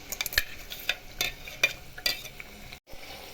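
Crushed tomato paste sizzles in a pan while a spoon stirs it, giving irregular scraping strokes over a soft frying crackle, close and fairly quiet.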